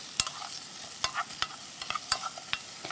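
Carrots being stirred in a frying pan with a little oil, giving a soft sizzle with a series of sharp scraping taps from a utensil against the pan.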